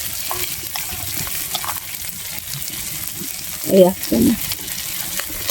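Prawns sizzling in a pan as ginger garlic paste is added, a steady frying hiss with a couple of louder splashy bursts near the end, while someone speaks briefly.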